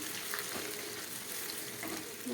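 Stuffed eggplant curry, Andhra-style gutti vankaya with chili and turmeric, stirred gently in a pan: a steady soft sizzle with faint scraping stir strokes running throughout, close and alone.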